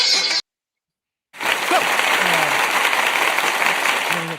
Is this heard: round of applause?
yes